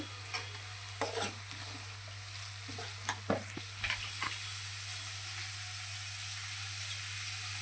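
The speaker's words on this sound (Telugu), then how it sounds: "ఒక రెండు నిమిషాలు బాగా ఆ ఉల్లిపాయలు కొంచెం బ్రౌన్ బ్రౌన్ కలర్ వచ్చేటట్టుగా వేపుకోవాలండి కరివేపాకు కూడా" Chopped onions and curry leaves frying in a pan, a continuous sizzling hiss with a steady hum beneath, broken by intermittent scraping clicks of stirring.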